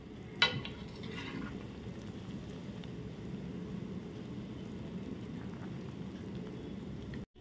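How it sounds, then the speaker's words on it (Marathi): A pot of horse gram shengole curry bubbling at a boil, gently stirred with a ladle, giving a steady soft bubbling hiss with one brief clink near the start. "आता अलगद आपण त्या ढवळून घेऊया."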